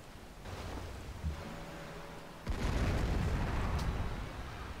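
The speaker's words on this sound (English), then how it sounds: "Let's start bombing Tunesburg again." Battleship shells bombard a city in Civilization V, with a sustained rumbling explosion swelling loudly midway and continuing as a dense, booming roar.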